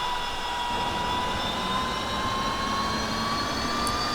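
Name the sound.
Huey UH-1 helicopter engine starting in DCS video game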